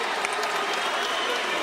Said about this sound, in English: can we get a round of applause for Andy Ruiz,